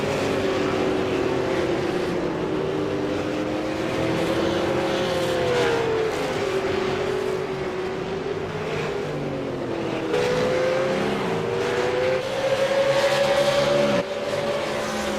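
V8 Supercars race cars at Laguna Seca roar past one after another about a second and a half apart, their engine notes rising and falling in steady sweeps over continuous track noise.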